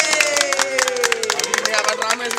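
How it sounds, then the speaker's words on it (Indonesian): Studio audience applauding to welcome arriving guests, fast sharp claps in dense bursts with a steady tone and voices underneath. "Tepuk tangan untuk kedatangan teman-teman saya."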